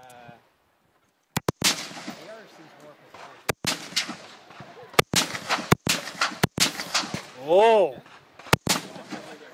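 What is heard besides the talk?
AK rifle firing in bursts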